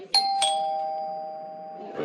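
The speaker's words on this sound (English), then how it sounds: "There goes the bell." A doorbell-like bell gives two quick strikes, and the bright tone then rings out in a long, slowly fading sustain. Nearby and fairly loud, with no voice over it.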